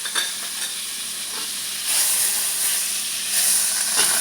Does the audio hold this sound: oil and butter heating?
yes